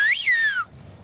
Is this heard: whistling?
yes